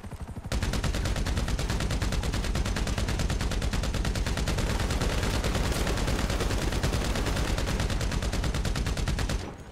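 Sustained, rapid combat machine gun fire in GTA V survival mode, a dense unbroken burst of gunshots lasting nearly ten seconds, loud and close with no talk over it.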